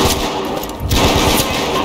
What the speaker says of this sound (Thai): โอ้เสียงปืนเสียงปืนมันนี่ดีว่ะแบบสมจริงเลย